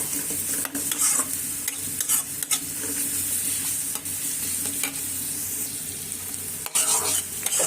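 Dried chillies fry in hot oil in a pan with a loud, continuous close-up sizzle, broken by periodic scrapes and knocks of stirring, with no voices.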